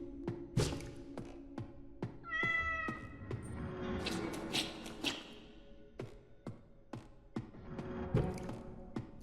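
A cat meows several times in the video game The Dreadthorn Therapist, between sharp taps and knocks, with soft game sounds around it.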